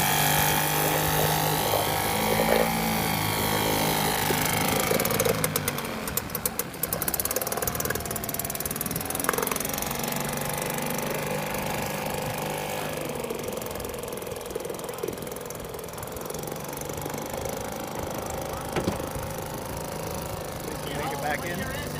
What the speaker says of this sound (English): A Seagull engine.